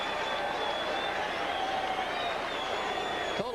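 A baseball crowd at Candlestick Park gives local hero Atlee Hamaker a warm hand at a Braves–Giants game, producing steady, dense applause and crowd noise that holds evenly throughout, broad and distant like a stadium wash.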